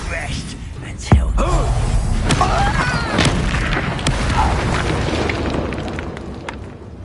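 Confringo blasting spells go off in the Hogwarts Legacy video game as a dense, continuous wash of rumbling explosions and crackling bursts. One sharp impact stands out early on.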